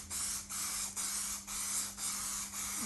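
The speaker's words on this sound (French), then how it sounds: "le fixatif en bombe aérosol que nous passons de cette manière-là" Aerosol can of fixative sprayed onto leather during a repair, in six short hissing bursts of about half a second each with brief gaps, close and steady, alone.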